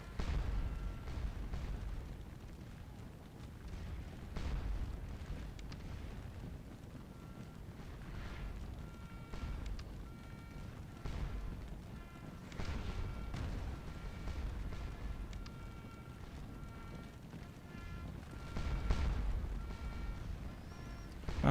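Cannon from Napoleonic artillery in Scourge of War: Waterloo thud repeatedly in low, rumbling booms, fairly faint and distant over a constant windy battlefield hiss.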